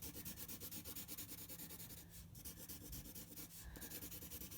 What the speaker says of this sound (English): you can do some quite scratchy, nice, different mark making to create tone this way.